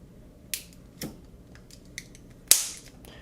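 The plastic casing of a disposable vape cracks as it is squeezed open, giving four sharp, dry snaps spread over about three seconds. The last snap is the loudest and closest.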